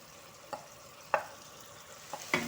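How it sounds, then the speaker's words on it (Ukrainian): Onion and carrots stew quietly in a pan with a faint steady sizzle, broken by a few soft scrapes and clicks of a utensil stirring, near and without talk. "висипаю 300 г моркви і продовжую тушити"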